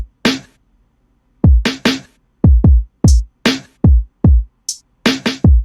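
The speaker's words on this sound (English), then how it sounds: "for this part, we have the drums, which sound like this" A programmed drum beat plays alone, with punchy kicks, crisp snares and a few bright hi-hat ticks in a sparse, syncopated pattern, clear and close.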